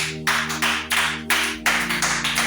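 Congregation clapping in a church service, a series of bursts of group applause with steady hum underneath, fairly loud and close.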